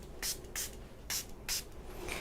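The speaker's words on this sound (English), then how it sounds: "So I have a Stampin' Spritzer that I'm just going to spray off of my table" A Stampin' Spritzer sprays water onto a craft table in four short hissing bursts, evenly spaced and close, with quiet gaps between.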